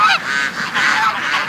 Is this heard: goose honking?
yes